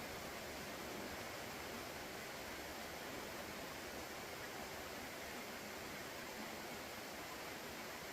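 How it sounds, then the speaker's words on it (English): A waterfall in Scotland pours in a steady, even roar of rushing water, constant and fairly soft throughout with no other sounds. "I've got the waterfall coming down"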